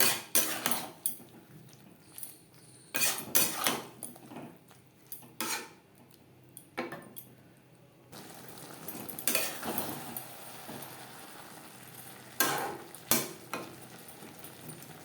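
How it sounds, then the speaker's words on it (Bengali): Taro stalks stirred in a pan with a paste of mustard, coconut and green chili: close, intermittent bursts of spoon scraping and clinking against the pan, separated by quiet pauses, with no talk. "ডাঁটার সাথে সর্ষে, নারকেল ও কাঁচা লঙ্কার পেস্ট বেশ ভালো করে মিক্স করে দেবো।"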